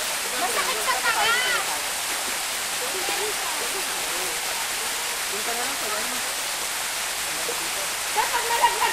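A large waterfall pours heavily in a steady, broad rushing roar, with people talking over it.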